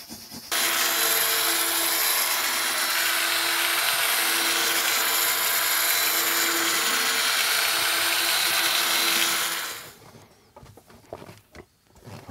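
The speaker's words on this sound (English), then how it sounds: "another pass with 2000 grit sandpaper, and then we should be good to go" Scratched clear plastic is sanded by hand with 2000 grit sandpaper, giving a close, continuous scratchy rubbing that runs steadily for about nine seconds before stopping, with no talking.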